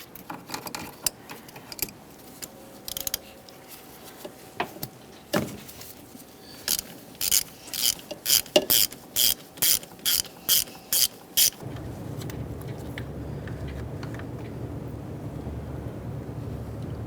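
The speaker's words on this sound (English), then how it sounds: "To remove each one of these mounting bolts, we'll be using a swivel-headed 13mm" A ratchet fitted with a swivel-head 13mm socket clicks in rapid rhythmic bursts while removing starter bolts on a 2006-2012 Ford Fusion 3.0L V6, with scattered knocks before it, then steady rushing noise.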